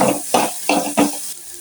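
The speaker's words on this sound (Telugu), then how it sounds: "ఇప్పుడు కొన్ని మన క్వాంటిటీకి తగ్గట్టు వాటర్ పోసుకోవాలి." Frying vegetables in a pan with water being added: four loud bursts of sizzling hiss in a row, each fading quickly, then a quieter stretch.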